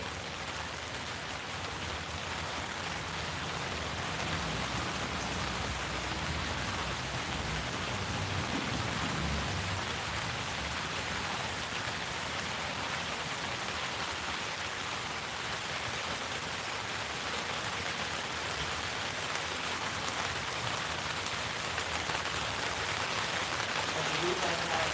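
Steady rain falls outdoors, a dense continuous hiss of drops on surfaces that holds at an even level throughout, close and enveloping.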